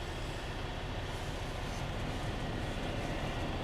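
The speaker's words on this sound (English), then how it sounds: "And there's a train." Train passing by a truck stop, a steady, dense, broadband rumble and roar that holds at an even level throughout, without any talk.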